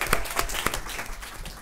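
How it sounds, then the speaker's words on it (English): A round of applause at a conference bloggers' session, scattered claps with a few sharp individual hits over a steady crowd patter, brief and moderately loud. "big round of applause again, please"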